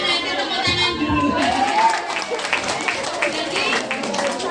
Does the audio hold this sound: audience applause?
yes